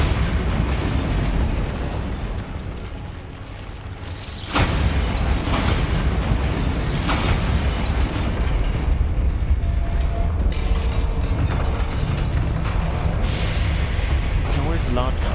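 A Bombarda spell explosion in the video game Hogwarts Legacy erupts as a loud, broadband boom about four seconds in, followed by dense rumbling combat noise and a voice talking over it.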